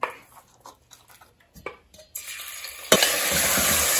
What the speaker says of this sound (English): So when oil is hot, I'm gonna fry this mutton here.